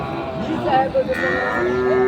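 Sahiwal cattle at a livestock market in Dinajpur, with a drawn-out bovine moo that rises into a long, steady call near the end over a dense background of market crowd noise.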